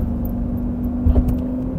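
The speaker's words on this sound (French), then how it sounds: "l'échappement il fait du bruit, mais là, franchement, c'est bien sonorisé" Lamborghini Gallardo Superleggera driving on a rough, bumpy road, its exhaust a steady low drone heard from inside the cabin, with a brief thump partway through.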